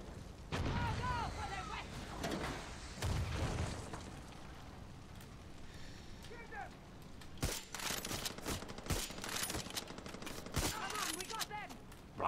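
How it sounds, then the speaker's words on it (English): Mortar fire and tank shots in Far Cry 6 crack out as a fusillade of sharp gunshot bursts and booms, scattered irregularly through a chaotic combat scene, with a voice talking over it. "Where's the mortar fire coming from? Or is it just a bloody tank shooting at me?"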